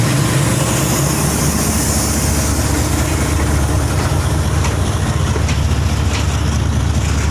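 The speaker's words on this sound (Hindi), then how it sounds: "ये 4000 हार्स पावर इंजन है।" A GE U40 4000-horsepower diesel-electric locomotive idles at a Pakistan Railways junction with a heavy coal train, giving a loud, steady, throbbing rumble close by with no pauses.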